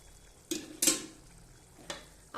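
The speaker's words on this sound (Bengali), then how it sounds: "আমি একটু নেড়ে দেব।" A spoon stirs a small-fish curry in a cooking pot, giving a few scattered scraping clinks against the metal over a faint simmering background, close and quiet.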